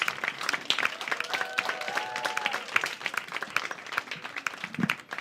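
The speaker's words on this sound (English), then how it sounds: "Keep the applause going for Aiden McCaffery." A comedy club crowd keeps up lively applause for stand-up comic Aiden McCaffery. The clapping is quick, dense and moderately loud, with a few whoops and cheers mixed in.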